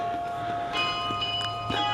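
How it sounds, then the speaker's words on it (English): Bells ring faintly in the open air near Carolina Beach on the Florida Panhandle, giving a few soft distant strikes over steady background hum, with no talking. "What is up with these bells?"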